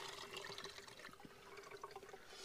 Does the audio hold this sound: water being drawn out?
yes